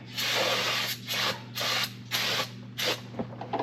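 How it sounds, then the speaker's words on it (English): Brake cleaner sprays in five or six short hissing bursts onto a brake rotor hung backwards on the wheel studs, loud and close with brief pauses between each blast. "clean the backside with our brake cleaner."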